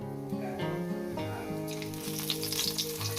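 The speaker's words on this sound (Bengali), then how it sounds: "গোটা গরম মশলা গোটা চিড়ে আর শুকনো লঙ্কা এটা ফোড়ন দিয়ে দিলাম" Whole garam masala, flattened rice and dry red chillies sizzle in hot oil as a tempering for a dal cooked with rohu fish heads. A continuous close frying hiss plays under background music and grows brighter toward the end.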